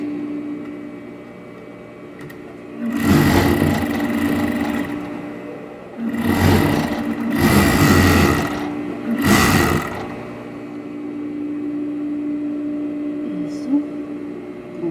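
An overlock sewing machine stitching fabric for a floral blouse runs in three loud whirring bursts of a few seconds each, with short pauses between and a steady hum underneath; a voice speaks at times.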